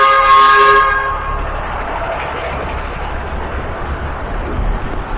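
A train horn sounds loud and close for about a second at a railway level crossing, then broad rumbling traffic and rail noise carries on to the end.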